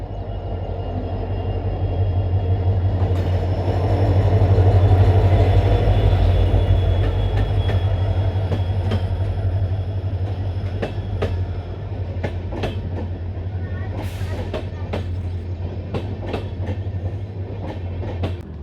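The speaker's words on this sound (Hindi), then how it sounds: "लो जी, ट्रेन चल चुकी है मलोट रेलवे स्टेशन से।" An Intercity Express train hauled by a WDP4 diesel locomotive pulls out of a station, with a deep diesel drone swelling and easing, then rhythmic wheel clicks and clanks building as it gathers speed.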